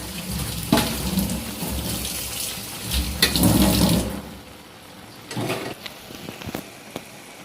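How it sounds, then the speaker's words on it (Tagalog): Coconut milk laing bubbles hard in a pot, a loud continuous seething and gurgling that drops to softer, sparser bubbling and pops partway through, no talking. "Yan na, kulong-kulo na siya."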